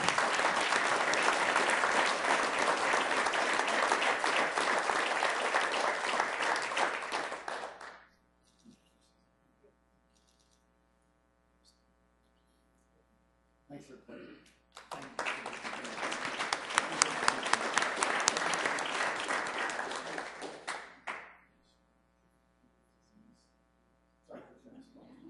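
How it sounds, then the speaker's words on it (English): An audience at a Sioux Falls city council meeting applauds an award winner in two long rounds of steady clapping, with a quiet stretch of faint room hum between them. "Let's give him a round of applause."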